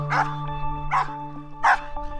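Recorded dog barks, either happy or angry, are played back in an animal emotion-recognition experiment. Three sharp, evenly spaced barks ring out clearly over a steady electrical hum.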